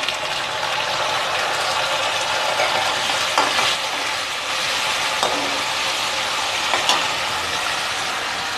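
Chopped tomatoes hit a pan of fried ginger and keep frying with a loud, continuous hiss, punctuated by a few light scraping stirs.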